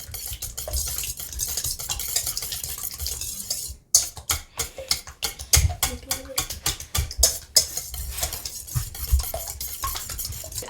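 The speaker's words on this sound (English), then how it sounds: "Whisk it" An egg is whisked in a bowl for crêpe batter. Quick, rhythmic metallic clinks and scrapes run steadily at close range, with a brief pause partway through.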